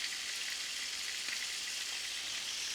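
Sliced yellow onions and garlic sweating in a pan give off a soft, even hiss, steady and unbroken, close and moderately quiet, with no voices.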